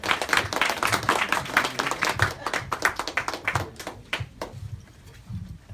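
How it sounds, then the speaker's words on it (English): Audience applause at a Mother's Day celebration event, a dense burst of hand clapping that thins toward the end, fairly close and loud with no talk over it. "give him a round of applause"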